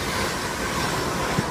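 A London Midland train on the Crewe to London Euston service runs straight through platform 2 at Cheddington, a loud, close, steady rumbling rush of wheels and wind throughout the brief moment, with no voices.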